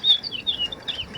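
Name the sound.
birds singing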